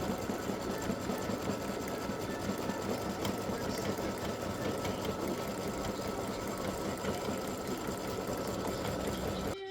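An embroidery machine stitches a black butterfly outline with a rapid, continuous mechanical whirring and needle clatter, steady and close for the whole stretch with no voices.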